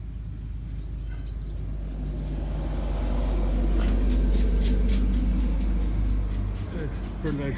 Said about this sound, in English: Fertilizer truck just went by.